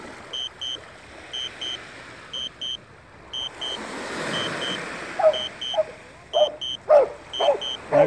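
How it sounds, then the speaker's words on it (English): Repeated sharp dog barks from a distance, coming in short bursts with pauses, growing louder near the end over a soft rushing background. "Okay, got barking dogs."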